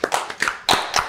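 A few people clap in a podcast studio, several quick, close handclaps in a short burst, with no talking.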